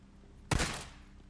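A single pistol shot rings out in the Days Gone video game: one sharp, loud crack that is followed by a short decaying tail, with no talk over it.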